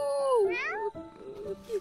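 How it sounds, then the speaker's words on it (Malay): A cartoon cat in the Malaysian animated series Upin & Ipin gives one drawn-out meow that bends upward in pitch. A second, lower mew follows, and the cat is heard close and clear. "Kucing tu suka Ihsan lah"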